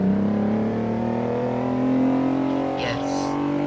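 A car engine in a Roblox driving game drones steadily at high revs, loud and continuous, with a brief higher-pitched whine near the end; no one speaks.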